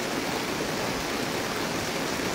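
Heavy rain falls steadily in Bandarban, a dense, even hiss that fills the whole stretch without pause or voices.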